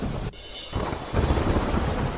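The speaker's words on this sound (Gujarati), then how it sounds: "જામનગરના કાલાવડ પંથકમાં ધોધમાર વરસાદ" Heavy monsoon downpour over Kalavad town in Jamnagar, a loud dense rush of rain with a brief dip before the roar swells back stronger.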